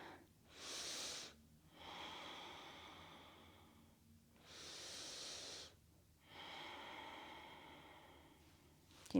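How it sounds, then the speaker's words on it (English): Slow, deep breathing during a full-body stretch: long airy inhales and exhales alternate in a steady rhythm, close and fairly soft, with no talking. "Big breath in."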